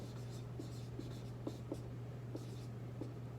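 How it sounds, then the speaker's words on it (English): Marker or chalk writing on a classroom board: a series of soft, short strokes and taps in an irregular rhythm, faint and close, over a steady low electrical hum. "I'm going to write that one up here."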